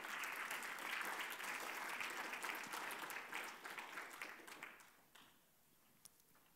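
An audience applauds at an award ceremony for a history contest, with dense clapping that holds steady for several seconds, then thins out and fades to a few scattered claps.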